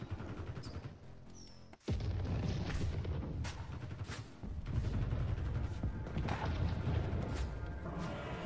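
Missiles launch and explode in the video game Necromunda: Hired Gun, a dense roar of booming blasts and crackling debris that runs almost continuously, loud and close, with a brief drop before a heavy burst.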